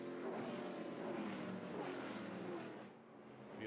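ARCA Menards Series West stock cars race into turn 1 at Portland International Raceway, with a dense, steady engine roar from the field that eases slightly near the end, heard alone without talk.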